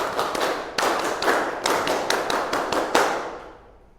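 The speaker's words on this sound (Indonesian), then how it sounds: "Tepuk pramuka" A class of students performs a tepuk pramuka, the scout clap: a group claps in unison in a quick syncopated pattern of about a dozen sharp, loud claps with short pauses. It ends on a final clap that rings out in the room.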